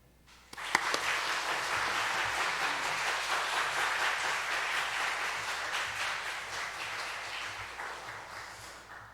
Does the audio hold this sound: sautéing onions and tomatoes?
no